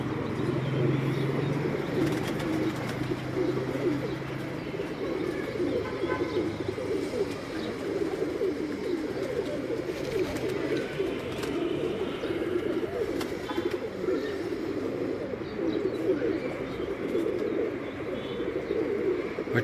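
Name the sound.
Ferozpuri pigeons cooing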